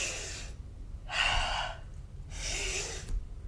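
Forceful, rapid fire-breath exhales during a yoga strength class, with three loud, close bursts of rushing breath separated by short quiet pauses.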